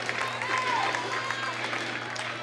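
A crowd at a high school wrestling match between the Bow Falcons and PRHS Bobcats cheers and applauds steadily, a broad sustained roar filling the gym at a constant loudness throughout.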